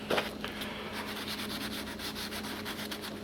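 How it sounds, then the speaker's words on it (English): Primer over tape on a model aircraft panel being sanded by hand with 120 grit sandpaper, a faint, close, steady rhythmic rasp of strokes repeating alone. "We're sanding this down with a 120 sandpaper."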